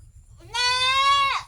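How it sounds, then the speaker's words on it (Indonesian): A neighbour's goat in a rural village gives one loud, drawn-out bleat lasting about a second, close by, over faint low background rumble. "Ini kambing tetangga ini teriak-teriak juga mau diliput."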